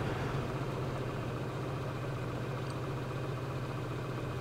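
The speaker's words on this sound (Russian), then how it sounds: "Сейчас двигатель работает на холостых оборотах." A ZAZ Tavria Slavuta car engine idles, heard inside the cabin, with a steady, low, even rumble, unchanging throughout, with no other sounds.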